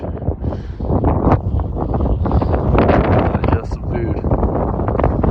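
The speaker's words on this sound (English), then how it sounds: "It's windy." Gusty wind buffets the microphone with a constant rumbling roar while a person speaks a few words close by.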